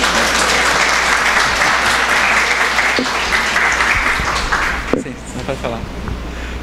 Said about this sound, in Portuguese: Muito bem, palmas para ele